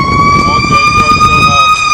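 A fire engine siren wails loud and close in Bridgeport, Connecticut, its steady high tones sliding slightly as it passes over rumbling traffic, with speech-like noise mixed underneath.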